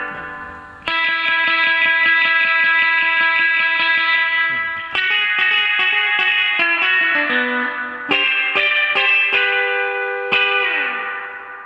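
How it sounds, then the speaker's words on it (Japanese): Electric guitar played through a BOSS FRV-1 Fender-style spring reverb pedal with the tone knob turned up, giving bright sustained chords and single notes with a shimmering reverb tail, loud and close with no talking. "右に回すと、ちょっとハイが上がった、きらびやかな音になっていきます"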